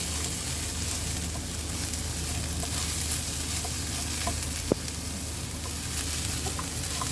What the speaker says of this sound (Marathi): आपण आता याच्यामध्ये गूळ टाकणार आहोत तो टाकून खोबऱ्याबरोबर व्यवस्थित एकजीव करून घेऊया